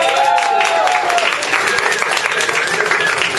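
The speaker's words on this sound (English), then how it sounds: "A round of applause for our sound guy." A live audience at a comedy showcase at a small studio applauds the sound technician with loud, dense clapping and a few cheers that fill the whole stretch, with a brief voice at the start.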